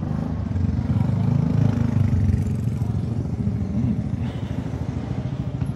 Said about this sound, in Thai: ที่จอดรถมอไซค์ตรงนี้นี่เราก็เข้าไปจอดในนี้นะครับ